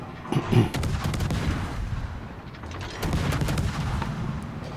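Naval gunfire in the video game World of Warships, with booming shots and rumbling salvos over a steady low background, moderately loud and continuous.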